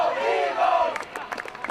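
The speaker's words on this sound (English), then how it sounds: "As instead of the cheerleaders starting a cheer, the parents seem to be starting one" Parents in the stands at a high school boys' soccer game start a rhythmic crowd chant, a loud blended roar of voices followed by choppy, punctuated shouts.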